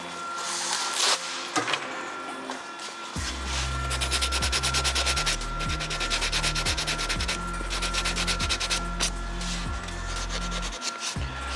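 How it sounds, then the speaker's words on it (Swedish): 180-grit sandpaper rasps against a surface in repeated back-and-forth strokes during a paint spot repair, a steady scratchy rhythm that continues for several seconds with brief pauses. "vad är det för slipapper nu? Nu kör jag 180"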